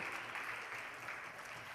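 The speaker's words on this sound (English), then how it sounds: "a very huge round of applause for our artists from the Ganasauraba Yakshagana School" A faint, steady round of applause from an awards ceremony audience, honouring Yakshagana performers from the Ganasauraba Yakshagana School, a dense wash of clapping for under two seconds with no talk.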